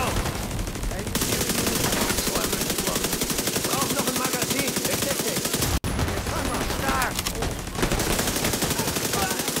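Rapid automatic gunfire in The Division 2 co-op fight, dense sustained machine-gun bursts almost without pause, loud and close, with voices faintly under it.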